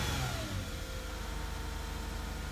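A Lexus IS250 engine idles high, a steady, continuous mid-pitched hum and whir with no change in speed, close and unbroken throughout.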